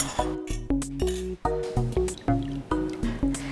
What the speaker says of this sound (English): So I've just got a sieve and a bowl, and we're just going to pour it through.